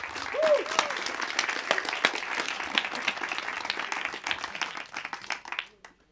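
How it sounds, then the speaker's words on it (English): Audience applause at a Garage48 hackathon event on stopping human trafficking, a dense wash of many hands clapping that stays steady for several seconds and then tapers off, with a brief voice near the start. "can you give a very, very big and thorough round of applause for yourselves for getting this far?"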